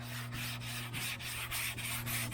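Sandpaper rubs back and forth over primed bodywork on a 1977 Chevrolet Malibu Classic, in quick, evenly spaced strokes that sound close and quiet over a steady low hum, with no talking.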